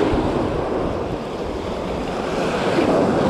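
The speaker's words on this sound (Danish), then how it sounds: "Lidt store bølger, sådan der står herinde på," Big waves breaking along the sea coast of West Zealand in mid-November, a steady, dense roar of surf mixed with gusty wind buffeting the microphone, continuous and loud with no talk.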